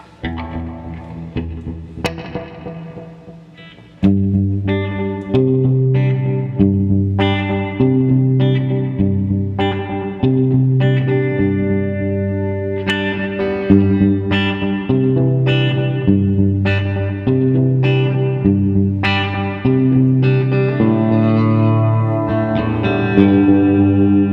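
Clean electric guitar phrases through a VFE Pedals Yodeler, delay and reverb blended in parallel, echoing and lush, notes trailing and overlapping into a sustained ambient sound.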